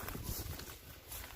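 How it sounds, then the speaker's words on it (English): Horses in an outdoor nature setting, with soft hoof thuds and shuffling nearby as they come closer. A brief low snort or vocal sound is heard, and no one speaks. "Let's have a look at the horses."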